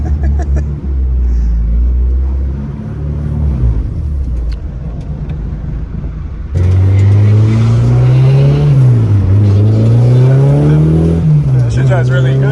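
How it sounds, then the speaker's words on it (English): A Honda hatchback's engine revs hard during a burnout, a loud rising and falling roar that jumps up sharply midway and then swells and dips repeatedly, with people talking and shouting over it. "Yo, we're going to do a burnout."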